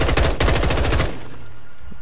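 Automatic gunfire in the Modern Warfare campaign: a loud, fast rattling burst of shots for about a second, then cutting off into a low rumbling quiet.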